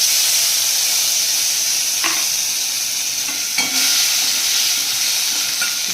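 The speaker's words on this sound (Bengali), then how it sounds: "এটা একটু ভাজা ভাজা হয়ে গেলে পরে টমেটো কুচি," Chopped tomato hitting hot mustard oil with bay leaf, dried chilli and five-spice, a loud continuous sizzle and hiss with a few sharp stirring clatters from the pan.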